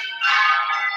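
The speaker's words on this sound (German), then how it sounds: "du hörst auch die Glocken" Church bells ring with a bright, sustained metallic tone that swells in after a brief pause and holds steady, loud and clear with no voices over it.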